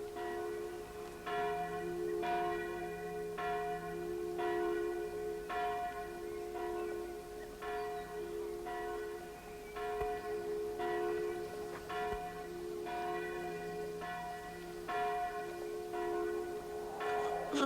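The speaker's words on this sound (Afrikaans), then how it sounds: "Wat die kerkklokke." Church bells toll in a steady, evenly spaced rhythm of ringing strikes with long resonant tails, distant and fairly soft, continuing throughout with no talk over them.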